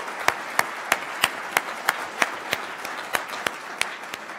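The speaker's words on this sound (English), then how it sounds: "Let's give her a real round of applause." A conference audience claps in a sparse, rhythmic way, with distinct sharp claps at a steady pace over a soft background of scattered applause, heard nearby with no talking.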